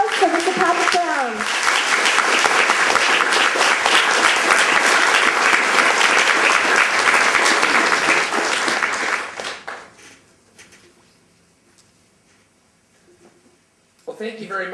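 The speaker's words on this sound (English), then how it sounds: "Give him a big round of applause for Mr. Patrick Brown." An audience at an international Vietnamese youth conference keynote applauds loudly for about nine seconds before the clapping dies away into quiet, with a voice starting at the end.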